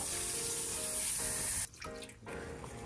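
Bracken fern and soybeans washed in cold water under a running tap, a steady splashing gush filling a sink that breaks off briefly, then resumes more unevenly with sloshing.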